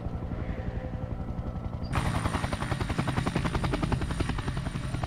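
A helicopter in the video game Sniper Ghost Warrior 2 thumps with rapid rotor pulses that jump sharply louder partway through, a close, dense chopping drone with no talking.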